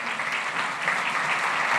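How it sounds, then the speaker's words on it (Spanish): A crowd at an urban and rural clean-water summit claps steadily, a thick even wash of applause that stays loud and continuous for the whole stretch, no voices on top. "Fuerte los aplausos, por favor."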